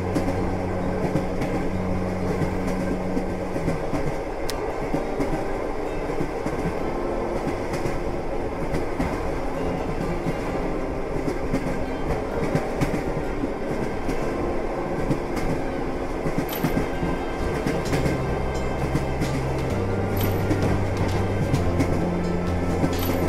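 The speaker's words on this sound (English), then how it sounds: "we're heading for a cliff. The only way to stop the train is to uncouple the last car." Runaway train in a video game rolling toward a cliff, a steady loud rumble of wheels on rails with low mechanical drone and faint clatter throughout, no voices.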